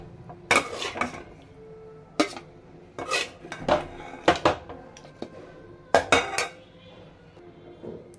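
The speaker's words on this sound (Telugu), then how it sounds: "ఇప్పుడు ఈ చికెన్ అన్నిటిని ఒక ప్లేట్లోకి తీసుకుంటున్నాను" Fried chicken being scraped and lifted out of a pan onto a plate, with a series of clanking metal-on-metal utensil hits and scrapes spread across the clip, close and fairly loud, with quieter gaps between.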